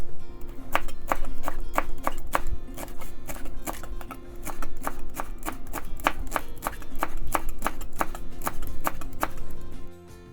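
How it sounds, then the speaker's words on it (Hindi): A knife chops parsley finely on a cutting board for baked garlic potatoes, giving a long run of crisp, rapid, evenly spaced close taps that stop abruptly at the end. "पार्सली है, इसको भी काट लेंगे बारीक बारीक सा।"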